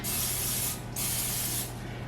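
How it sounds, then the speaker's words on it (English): Two short hissing bursts of cooking spray coat muffin pans, each a close, steady spray of under a second separated by a brief pause. "spray my muffin pans with a little bit of cooking spray"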